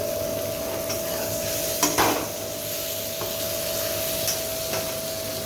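Vegetables and potatoes being stir-fried in a pan for a Bengali fish curry, with a steady soft sizzle, a tonal hum beneath, and a few scraping stirs of a spatula.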